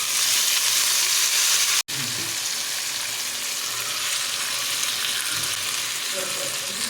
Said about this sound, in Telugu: పన్నీర్ ఫ్రై చేసిన దాంట్లోనే మళ్ళీ నేను పాలకూర ఫ్రై చేసుకుంటున్నా